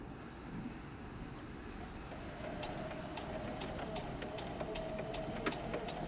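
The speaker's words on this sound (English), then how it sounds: "You're going to sew along the open side." A sewing machine runs a straight stitch along the open side seam of a fabric wine bag, giving a quiet, steady motor whir that grows slightly louder after a couple of seconds and continues without talk.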